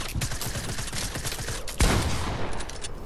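Rapid bursts of gunfire in a VR shooter game, dense overlapping shots throughout with one sharper, louder blast partway through before the firing thins out.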